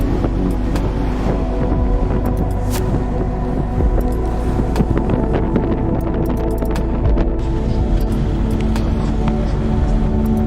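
A car drives up a road toward the mountains around Shanlinxi, Taiwan, giving a steady, loud rumble of engine and road noise with wind buffeting throughout and no talk.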